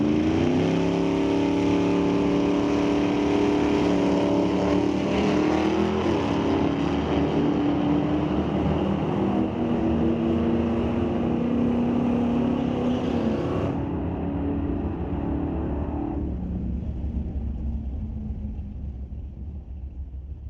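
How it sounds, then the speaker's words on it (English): Two Chevy Malibus, a 1979 model in the left lane against another Malibu, roar side by side in an NHRA drag race at a raceway, a loud sustained engine rumble rising in pitch under acceleration and fading as they pull away. "Now we have Jenna Pobson, 79 Chevy Malibu in the left lane, lining up to another Chevy Malibu in the right lane"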